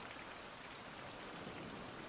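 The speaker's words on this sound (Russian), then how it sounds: "еще и дождь пошел" Rain falls in the survival video game Survival Fountain of Youth. It makes a soft, even hiss of drops on surfaces, faint and unbroken, with no voices.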